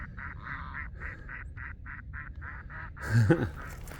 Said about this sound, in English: Those are my ducks.